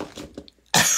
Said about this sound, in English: the more I try not to cough, the more I'm going to have to cough